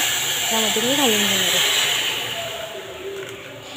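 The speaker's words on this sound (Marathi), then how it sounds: "आता हे पाणी जेव्हा आपण घालतो तेव्हा पाण्याचा आवाज जो ऐकला असेल तुम्हाला," Hot boiled water is poured onto rice roasting in a pan for a veg thali. It sets off a continuous hissing sizzle that slowly fades, heard under a person's speech.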